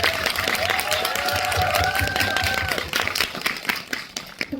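An audience claps for actress Lee Hye-young at a live talk event for the film Pa-gwa, giving a dense, steady patter of applause that runs for several seconds, with a faint voice or tone drifting through it.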